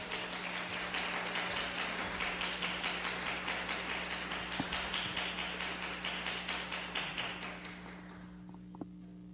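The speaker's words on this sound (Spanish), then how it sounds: "Un aplauso para él, por favor" A church congregation at a missionary congress in Arequipa claps steadily for the speaker Gilmar Rivas, dense sustained applause that fades out near the end.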